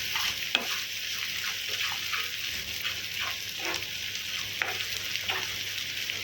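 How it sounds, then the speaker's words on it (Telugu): Onions with ginger garlic paste fry in a pan for a chicken samosa filling, a steady close sizzle broken by scattered scrapes and clicks of a spoon stirring, no voices. "ఇలా పచ్చివాసన పోయేంత వరకు మంచిగా ఫ్రై చేసుకోండి."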